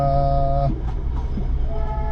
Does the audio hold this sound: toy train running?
yes